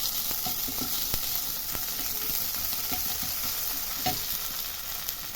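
Grated ginger sizzling in hot oil with five-spice seeds and torn dried red chillies, a dense steady fry hiss with occasional sharp pops and stirring clicks, close and alone.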